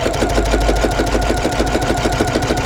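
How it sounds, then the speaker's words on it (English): A sewing machine runs steadily, stitching two rows of fabric together with a 3/4 inch seam for a reversible bag's lining panel, a loud close rapid mechanical chatter that holds for the whole stretch with no speech. "now I'm sewing both of my rows together with a 3/4 inch seam"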